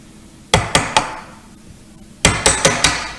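A hammer strikes a chisel shaping a wooden mirror frame held in a vise: three sharp, ringing blows in quick succession, a pause, then four more evenly spaced knocks, close and loud.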